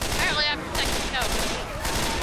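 Rapid gunfire from weapons in Left 4 Dead 2, loud continuous bursts of shots filling the moment, with a voice talking over them.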